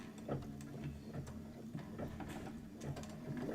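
An embroidery machine sews a quilting stitch on a table topper, giving a quiet, quick mechanical ticking and whirring in an irregular rhythm, close by and alone.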